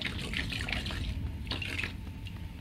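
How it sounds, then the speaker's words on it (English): A paint brush being rinsed in water, giving a soft, quiet trickling and dripping with light splashes and no voices. "wash your brush."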